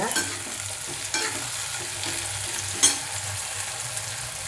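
Onion, curry leaves and broken green chillies frying with salt in a hot oil tempering for chana dal bhaji, giving a steady close sizzle broken by repeated stirring scrapes and occasional sharper clinks of a spoon.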